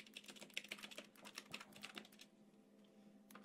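Fast, dense keystrokes clatter on a computer keyboard for about two seconds, close and fairly loud, then slow to a few scattered taps over a low steady background hum.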